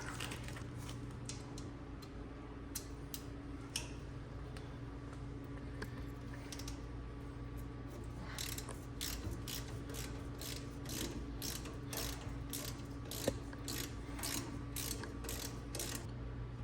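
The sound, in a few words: 3/8 ratchet working on 4Runner coil-overs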